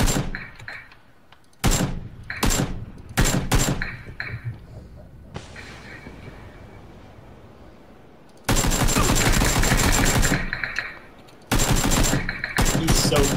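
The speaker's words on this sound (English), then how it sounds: "Four guys shooting at me." Gunfire from several enemies in the PUBG video game: sharp, loud bursts of automatic fire come in clusters, separated by a quieter stretch, then return as dense sustained volleys.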